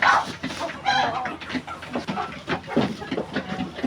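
Fayoumi chickens cluck and chatter close by while being fed, a busy stream of short calls with some louder squawks, the flock sounding continuously through the clip.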